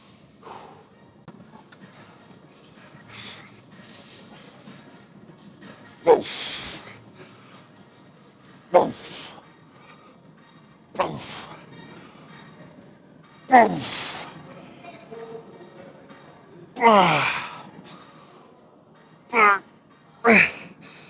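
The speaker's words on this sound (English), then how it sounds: "I just take 30 deep breaths and then I just continue with my set" Deep, forceful breaths during rest between chest exercise sets at a gym come as about eight loud, close, hissing exhales spaced a few seconds apart, with quiet background noise between.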